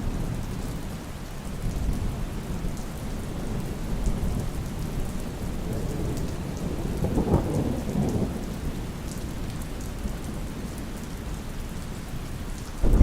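Steady rain falls outside a cabin, a continuous hiss of drops on surfaces with low rumbles of thunder rolling in the distance, swelling briefly in the middle, with no voices.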